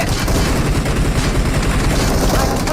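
Dense, continuous gunfire from an online shooter video game rumbles loudly through the whole stretch as a steady wall of noise, with a faint voice buried beneath.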